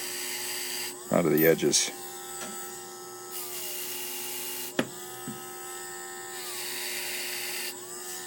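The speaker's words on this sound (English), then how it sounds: "I'm going to use my blue Whizzer wheel on my Dremel. It's a fine sandpaper" A Dremel rotary tool fitted with a fine sandpaper Whizzer wheel deburrs small metal pickup shoes, giving a brief high grinding whine followed by a steady motor hum and light contact sounds, while someone speaks briefly.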